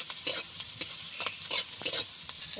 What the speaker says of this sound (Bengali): বেগুনটা কষি নেবো